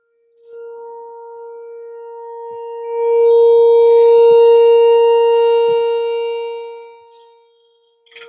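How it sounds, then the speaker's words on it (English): A steady, piercing tornado siren tone swells in during a test, holds loud for several seconds, then slowly fades away, sounding like a distant outdoor warning siren. "that is our testing of our tornado siren."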